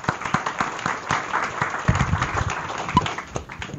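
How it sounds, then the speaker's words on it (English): Audience applause for a guest speaker in a university class: a small room of listeners clapping steadily, with individual claps distinct and fairly close, lasting a few seconds without talk. "let's have a round of applause for him"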